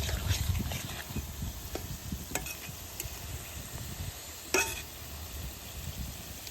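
Nimki dough strips frying in hot oil give a soft, steady sizzle with faint bubbling, joined by occasional light clinks and stirring taps, one sharper scrape near the end.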